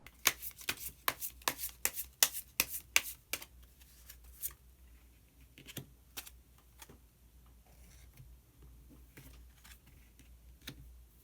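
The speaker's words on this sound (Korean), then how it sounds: "마지막으로 히든 카드 한 장 더 뽑아보도록 하겠습니다" Tarot cards shuffled by hand, a quick run of crisp riffling snaps at close range, then softer intermittent card slides and taps as cards are drawn.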